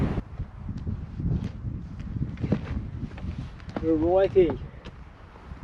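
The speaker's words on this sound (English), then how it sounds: "There's definitely a wind blowing." Gusty wind buffets the microphone on an exposed mountain crest, rising and falling in low rumbling bursts under a person's quiet talk.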